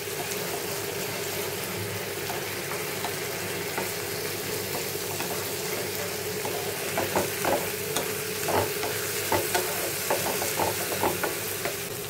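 Half a spoon of ginger paste and a spoon of garlic paste frying in a pan with onion and tomato, a steady close sizzle with occasional stirring scrapes growing busier toward the end.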